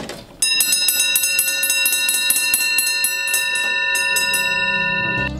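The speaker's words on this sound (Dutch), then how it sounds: "Dan gaat een belletje rinkelen" A small bell on the year-plate mechanism of a historic planetarium rings in a rapid, steady series of bright metallic strikes lasting several seconds, close and loud, then stops with a low mechanical rumble.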